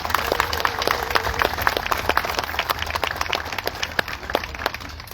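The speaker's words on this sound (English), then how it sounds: "Another round of applause for Horse Drum." Audience applause for Horse Drum at the Chief Standing Bear Forever Stamp unveiling, a modest crowd clapping steadily with crisp, uneven individual claps, fairly close and continuous with no talking.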